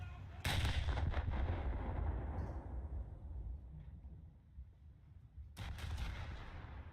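Naval ship guns fire in War Thunder, two loud booming salvos several seconds apart, each followed by a long rumbling decay.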